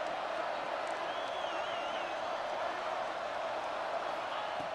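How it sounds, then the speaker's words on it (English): Stadium crowd at a college football game, Virginia Tech at Stanford, roaring steadily as the defense holds in the red zone; a dense, continuous wash of cheering throughout with a faint whistle-like tone partway through. "the crowd coming to life here, trying to help this defense down in the red zone"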